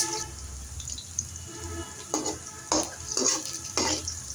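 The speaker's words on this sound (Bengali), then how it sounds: "আমি ভালোভাবে পেঁয়াজগুলো নেড়ে ছেড়ে দিচ্ছি।" Onions fry in a pan with cardamom, cinnamon, cloves and bay leaves while a spatula stirs them, giving a soft steady sizzle and rhythmic close scraping strokes, no talk.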